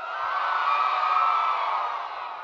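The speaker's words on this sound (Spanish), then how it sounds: "¡Un grito fuerte!" A large open-air concert crowd at a festival stage in Huelva shouts loudly together, a dense, sustained roar that holds steady and fades slightly toward the end.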